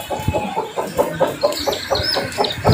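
Large chickens cluck close by in a quick, regular run of short calls that lasts a few seconds.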